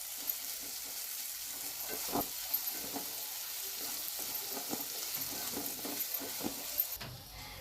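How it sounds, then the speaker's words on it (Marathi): A ground green chili thecha is stirred into a sizzling tempering in a frying pan, with a steady frying hiss, soft scraping stir strokes and a few louder clinks of the spoon, close and without talk. "आता फोडणी याला एकजीव करून घेऊया."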